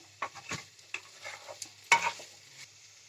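Thick cauliflower stalk paste with split green chillies is stirred in a kadai until its water cooks off, making a handful of soft, separate scraping strokes over a faint sizzle.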